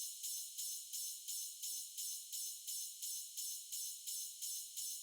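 A second cymbal in an electronic drum arrangement pans left and right, sounding alone as a thin, bright high wash pulsing in a steady repeating pattern of even swells.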